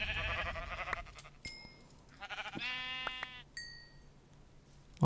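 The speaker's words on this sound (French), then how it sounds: "Alors, les trois moutons." Several sheep bleat in turn in Minecraft, a few wavering calls close by with short pauses between them, plus occasional clicks.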